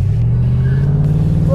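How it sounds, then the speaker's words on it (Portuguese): Chevrolet Camaro convertible engine held on the brake and revved for a launch, a steady loud low rumble rising slightly in pitch, close and continuous. "vou tentar subir um pouco o giro no acelerador"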